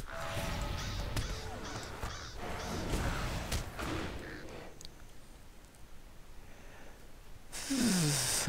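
A crow in Lord of the Rings Online caws several times in close succession, fairly near and clear, before the calls thin out into quieter ambience and a brief whoosh at the end.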